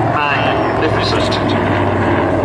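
Vintage aircraft roaring past at an airshow in Abingdon, two planes crossing over, a loud continuous propeller engine drone close by with an announcer talking over it.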